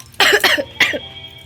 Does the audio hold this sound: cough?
yes